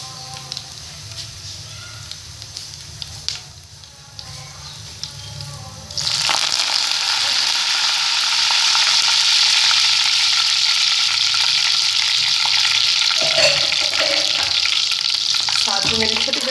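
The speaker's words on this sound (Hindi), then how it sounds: "सिंपल सा ये तड़का बनाऊंगी" A tarka tempering for masoor dal begins with quieter kitchen sounds, then erupts into a loud, continuous sizzle as it hits hot oil and keeps frying close up.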